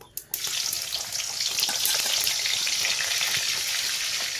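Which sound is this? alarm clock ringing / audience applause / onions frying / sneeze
onions frying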